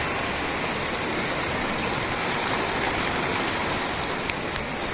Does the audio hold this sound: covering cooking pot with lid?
no